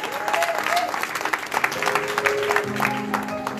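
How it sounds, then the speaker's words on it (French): A church congregation applauds, with dense, sustained clapping throughout, and sung or held voice tones and organ-like notes blending in beneath. "On acclame Jésus"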